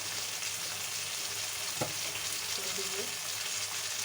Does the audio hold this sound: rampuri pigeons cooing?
no